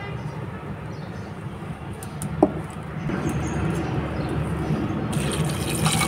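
Water poured into a pressure cooker holding chana dal with cauliflower, potato and beans, a steady gushing fill with a brief clink partway and slightly louder flow toward the end.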